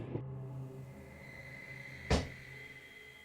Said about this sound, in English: A camera in the attic captures a loud knock